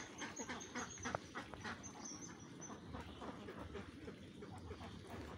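A flock of ducks on a farm quacking steadily while eating feed on a foggy, cold day; dense overlapping quacks close by, with no talk.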